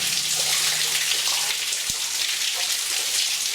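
Water pours steadily out of the rock inside a flooded mine tunnel, a dense, continuous hiss and splash like a close waterfall. It stays loud and even throughout, with no voices.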